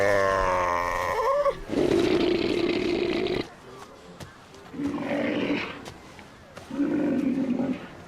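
Male Cape fur seals bellowing at a crowded breeding colony at Robberg, South Africa, with deep, rough, roaring calls coming in several loud bursts separated by quieter gaps, close and dense, with a moaning call at the start.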